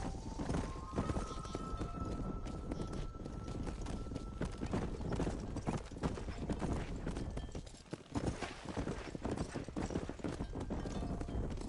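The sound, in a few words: horses' hooves clip-clopping as they are ridden out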